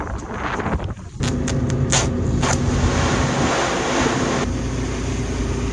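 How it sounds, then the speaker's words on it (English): Wind gusts roar loudly across an outdoor yard, a brief dip in the first second giving way to a sustained, heavy rush that buffets the microphone. "Can you hear the wind?"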